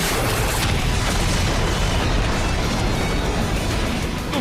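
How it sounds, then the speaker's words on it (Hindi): Beetle Cannon weapon firing in a Power Rangers Samurai battle, a dense, loud sustained rumbling blast that roars steadily without letting up. "Beetle cannon."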